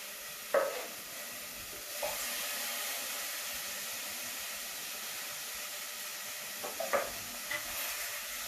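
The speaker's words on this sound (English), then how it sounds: "Let me stir it." Two tins of chopped tomatoes simmer and hiss steadily in a cooking pan, with a few soft clinks and scrapes of stirring now and then, close and fairly quiet.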